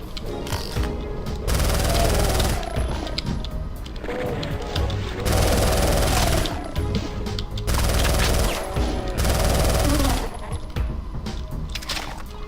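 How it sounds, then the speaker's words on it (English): An auto shotgun from the Doom mod Final Doomer firing in loud sustained bursts, each volley a dense roar of rapid blasts, separated by short gaps with clattering mechanical sounds. "This, my friends, is an auto shotgun."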